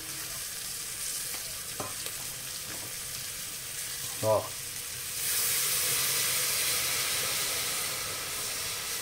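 Chicken sizzles in a pressure cooker with a few utensil clinks, then water pours in and the hiss swells louder and broader, with a brief voice.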